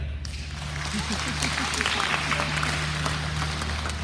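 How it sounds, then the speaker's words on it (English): A crowd claps steadily in a dense, continuous round of applause at a small graduation ceremony, with a low hum underneath. "Please give a round of applause to the following students."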